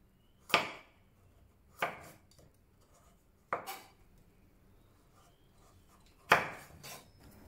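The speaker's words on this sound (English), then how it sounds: "Cut the pumpkin into 1-inch cubes." Knife cutting peeled pumpkin into cubes on a board: four sharp, close chopping thuds at uneven intervals, each with a short woody knock, over a quiet background.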